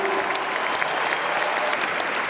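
A large crowd at Emmanuel Macron's 2022 presidential campaign rally in La Défense Arena breaks into applause, a dense, continuous roar of clapping that fills the hall for the whole stretch, with a voice faintly audible underneath.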